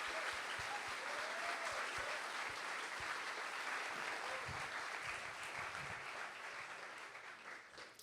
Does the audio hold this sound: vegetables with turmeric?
no